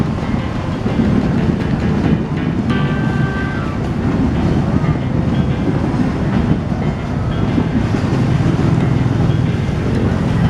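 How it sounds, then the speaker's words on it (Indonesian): A train rolls loudly through Banjar railway station in Indonesia, a continuous close rumble of wheels and carriages with a brief high squeal partway through. "Lihat kereta api."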